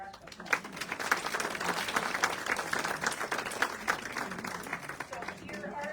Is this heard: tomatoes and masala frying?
no